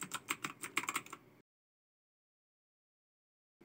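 Quick burst of keystrokes on a computer keyboard entering a search term in Windows 11, close and crisp for about a second and a half, then silence.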